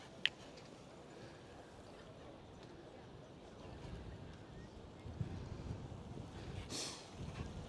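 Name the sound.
wind blowing while walking along the Amstel River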